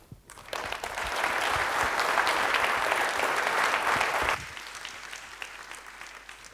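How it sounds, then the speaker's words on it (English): Audience applause for a lecturer at the end of a science talk, a dense, steady clapping that swells quickly, holds for about four seconds, then drops to scattered fading claps. "Once again, a big round of applause for our first speaker for today."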